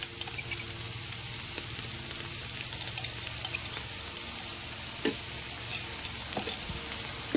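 Garlic frying for a green curry sizzles steadily in a hot pan, a continuous close crackle with occasional sharper pops and small stirring clatters, no voices.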